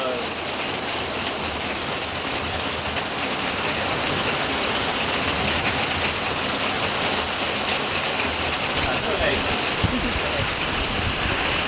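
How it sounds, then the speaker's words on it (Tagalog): Heavy rain pours steadily in the Netherlands, a dense, continuous hiss of drops on surfaces heard up close without a break. "Lakas ng ulan."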